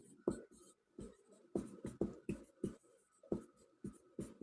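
Pen or chalk writing out a math equation during a Class 10 lesson, a series of quiet, close taps and short scratchy strokes with brief pauses between them.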